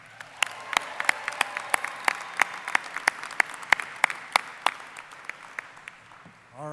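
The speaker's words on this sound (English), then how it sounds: "How about another round of applause for our Ore Digger singers?" Applause from a large audience at a Colorado School of Mines spring undergraduate commencement ceremony, steady dense clapping with sharp individual claps standing out, filling the hall for several seconds.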